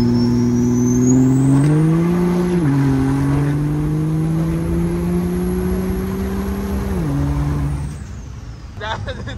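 A lifted Chevy dually truck on 30-inch wheels builds boost and accelerates from a roll, a loud, steady engine drone climbing in pitch with a whistling rise, dropping near the end, with a voice speaking under it.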